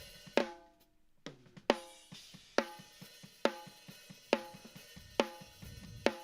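Dry and slammed compressed snare drum layers hit together in a steady pattern, loud crisp backbeats roughly every 0.8 seconds with quieter ghost notes in between, close and alone without any voices.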